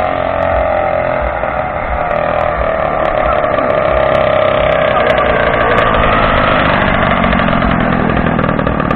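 Homemade motorized tricycle engine running loud and steady throughout, a continuous buzzing drone close by with slight rises in pitch and no talk over it.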